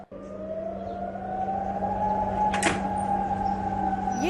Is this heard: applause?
no